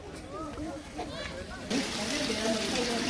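Cold water splashing and sloshing at an outdoor spot with a line of people, with a voice talking over it before the water grows louder and broader partway through.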